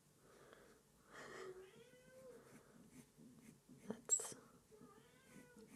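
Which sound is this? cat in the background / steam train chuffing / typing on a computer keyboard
cat in the background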